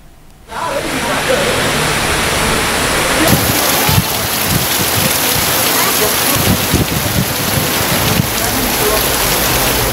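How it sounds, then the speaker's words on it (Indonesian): Heavy, dense rain with hail and strong wind pours down steadily with a roaring wash of noise, gusty and loud, with no voices over it. "Hujan deras disertai angin kencang dan petir melanda seluruh wilayah di Kabupaten Maros"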